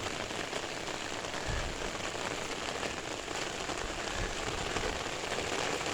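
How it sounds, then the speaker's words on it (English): Steady rain falls on hard surfaces in a continuous, even hiss, with faint pattering drops and no voices, after a storm. "Still raining right now."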